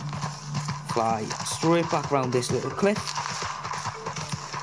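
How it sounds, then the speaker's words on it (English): Horse hooves clip-clop steadily through a Red Dead Redemption 2 game scene while someone talks over them, with a brief horse snort mixed in. "jump on my horse"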